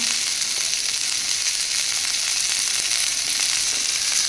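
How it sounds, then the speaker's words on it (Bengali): Cumin, garlic, onion, green chilies and a little tomato sizzle loudly and continuously in hot oil for a Bengali spice paste, a close, even frying hiss with no voices. "দিয়ে দিয়েছি জিরে, রসুন, অল্প টমেটো আর পেঁয়াজ দিয়ে এটা ভেজে তুলে নেবো।"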